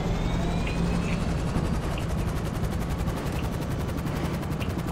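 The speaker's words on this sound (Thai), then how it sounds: "ทำไมเครื่องบินมันไม่ขึ้นวะ" A plane engine straining at takeoff in GTA V, a loud steady drone with a rapid rhythmic flutter running unbroken throughout.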